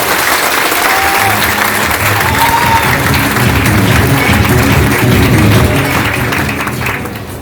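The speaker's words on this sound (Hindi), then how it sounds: "जोरदार तालियां करूंगा।" Loud, sustained applause rises from an audience at a motivational talk, a thick wash of clapping close by that stays strong before easing slightly at the end, with a low murmur of voices beneath.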